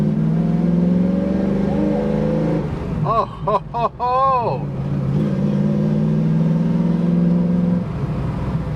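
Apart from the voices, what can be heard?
Ford Mustang engine revving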